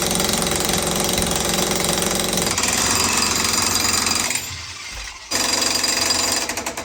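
A jackhammer pounds away at a basement entrance during a mansion restoration, a loud, steady, close rattle that drops out briefly near the end before starting again at full force.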